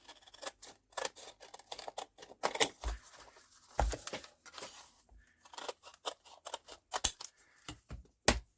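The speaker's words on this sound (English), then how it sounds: "I'm going to cut around it." Scissors snipping around a vellum paper pocket at close range, a quiet series of sharp, irregular crisp cuts with short pauses between strokes.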